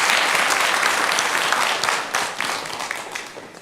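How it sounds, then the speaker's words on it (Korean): Korean church congregation at a Sunday morning worship service gives warm, sustained applause that gradually tapers off, broad and even throughout. "우리 영광의 박수를 우리 하나님께 올려드리겠습니다."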